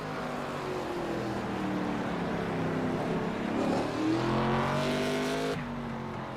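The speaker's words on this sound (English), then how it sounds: "These cars do sound pretty good on here." ARCA race car engines roar steadily at Mid-Ohio, pitch rising and falling as cars pass, with a louder car sweeping by near the end.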